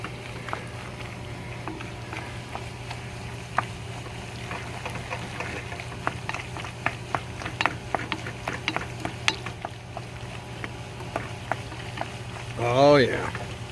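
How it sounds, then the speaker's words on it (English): Chili cheese fry mac and cheese cooking in a pot on the stove while a spoon stirs it, with scattered soft scrapes and taps over a steady low bubbling hum and a brief voice near the end. "let's stir this up"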